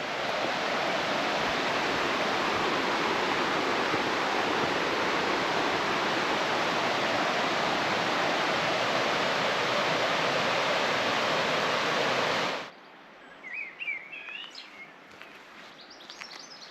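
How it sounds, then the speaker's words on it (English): The River Teign near Chagford rushes as a loud, continuous broadband flow for about twelve seconds, then cuts abruptly to quiet with faint bird calls. "And here is the beautiful River Teign."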